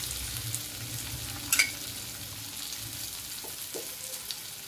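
Thalipeeth, a crisp fasting flatbread, frying in a pan with a little oil drizzled over the top: a faint, steady sizzle throughout with a brief louder crackle near the start, and no talking.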